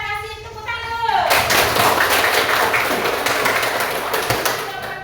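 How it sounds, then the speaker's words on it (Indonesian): Students in a classroom break into applause, a burst of many hands clapping that starts loud and tapers off, with children's voices chattering underneath throughout. "Semuanya kita kasih tepuk tangan"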